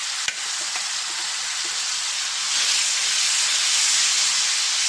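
Leftover stuffing masala with asafoetida roasts in hot oil for stuffed eggplant, making a loud, steady hiss and sizzle that swells midway after a sharp clink, close up with no talk.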